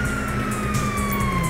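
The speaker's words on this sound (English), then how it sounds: "you hear that? Sirens, fuck the cops." Police car sirens wail in GTA 5, a steady rising-and-falling tone running continuously under engine and traffic noise, fairly loud and close.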